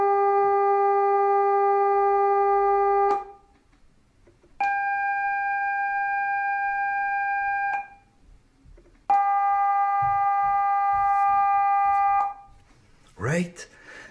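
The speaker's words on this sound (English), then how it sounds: "So this is called the illusion of the missing fundamental." Complex harmonic tones demonstrating the missing fundamental pitch illusion: three steady electronic tones, each about three seconds long, separated by short pauses, the first with a lower component and the later ones without it, followed by a brief voice.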